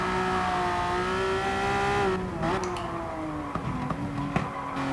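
A race car in GT Sport at Fuji International Speedway, engine droning loud and steady while it slides through corners on worn-out tyres, its pitch dropping and wavering.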